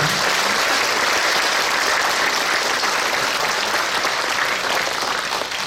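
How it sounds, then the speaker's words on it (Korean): Congregation applauding at a church dedication service for a new sanctuary in Korea, a loud, sustained wash of many hands clapping continuously without speech. "우리 새 예배당 주신 하나님께 감사의 박수 드리도록 하겠습니다."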